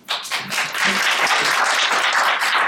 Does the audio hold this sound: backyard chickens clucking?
no